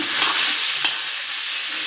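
Loud, close sizzle of ivy gourd frying in a pan, a bright continuous hiss with a brief scrape of stirring partway through.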